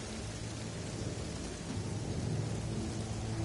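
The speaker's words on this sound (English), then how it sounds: "Incoming storm. Seek shelter in caves or buildings." A thunderstorm in the video game No Man's Sky brings steady heavy rain with a deep, rolling thunder rumble swelling slightly louder toward the end, with no voices over it.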